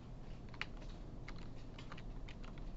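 Fast, steady keystrokes on a computer keyboard clatter close by in an irregular stream of light clicks, with no talking over them.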